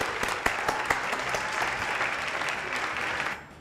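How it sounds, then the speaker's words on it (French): A TV studio audience claps enthusiastically in a sustained burst of dense applause that fades out at the end, close and moderately loud. "Applaudissements"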